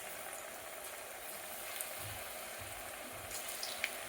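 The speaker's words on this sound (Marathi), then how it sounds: "आता बेसन हे तेलामध्ये सोडायचं आहे." Gram flour batter bhaji frying in hot oil: a faint, steady sizzle with soft crackling pops, close but quiet, with no talk.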